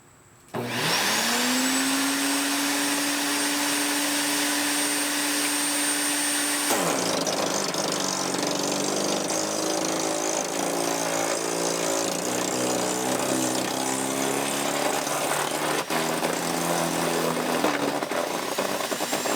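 Earthwise 15 amp electric chipper/shredder spins up to a loud steady whine, then chops hard wood with a rougher, grinding tone that persists at full loudness.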